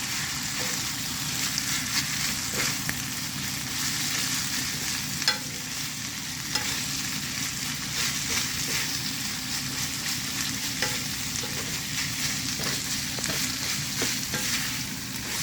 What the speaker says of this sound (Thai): ตอนนี้หมูเริ่มสุกแล้วค่ะ แล้วก็ใส่หน่อไม้ค่ะ เราก็ผัดให้เข้ากันค่ะ